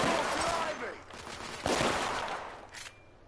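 Gunfire bursts in The Order: 1886 fill most of the stretch, a dense run of shots near the start and another loud volley midway, fading near the end.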